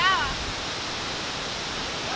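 The El Amate waterfall gives a constant broad roar of falling water, steady and enveloping. Near the start comes a short chirp that could be a bird.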